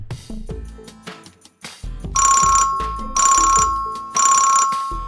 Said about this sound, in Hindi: नाम लिया और फोन आ गया।